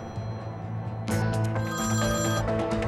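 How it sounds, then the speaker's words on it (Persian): A telephone rings in a dramatic indoor scene from a Turkish TV series, starting about a second in with a bright, trilling electronic ring that continues steadily over a low background hum. "گوشی تو جواب بده"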